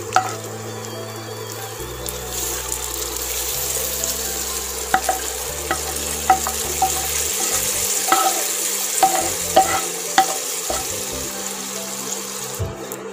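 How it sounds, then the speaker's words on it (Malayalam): Ghee-fried pieces poured into hot pazha pradhaman payasam after the flame is turned off, producing a steady close sizzle with repeated clinks and scrapes of stirring throughout, no voices. "ആ നെയ്യോടുകൂടെ അങ്ങോട്ട് ഇട്ട് കൊടുക്കാം നമുക്ക്"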